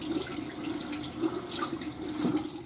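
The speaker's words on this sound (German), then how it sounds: "Einmal warm Wasser einstellen" Warm water runs steadily from a bathroom tap into a sink, a continuous splashing rush at moderate volume heard alone without talking.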